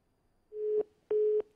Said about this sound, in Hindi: शायद फोन काट दिया है